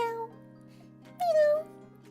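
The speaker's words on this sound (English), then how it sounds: "Eve, a Persian cat, yawned and leapt down to me." A Persian cat named Eve meows in a game, two short tonal meows with a quiet pause between them over a soft steady background hum.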